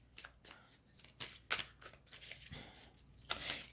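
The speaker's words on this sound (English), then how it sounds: "As I'm shuffling" Tarot cards being shuffled by hand, a series of quick crisp riffling bursts with short pauses between them, close and fairly quiet.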